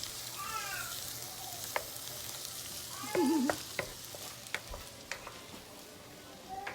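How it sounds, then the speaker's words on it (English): A saltfish dish, St. Lucia's national dish, simmers in a pot with a soft, steady sizzling bubble, close and fairly quiet, broken by a few sharp clicks and taps. "I'm gonna go and let you guys hear this simmer."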